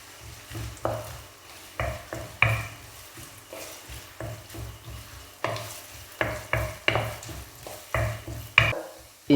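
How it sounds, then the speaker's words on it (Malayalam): Thinly chopped ginger fries in coconut oil for a Kerala ginger curry, with a steady sizzle close by and repeated scraping stirs of a spoon against the pan, and no talking. "അരിഞ്ഞു വെച്ചിരിക്കുന്ന ഇഞ്ചി ഇതിലേക്ക് ഇട്ട് കൊടുക്കാം. ഇഞ്ചി നമുക്കൊന്ന് വറുത്തെടുക്കാം."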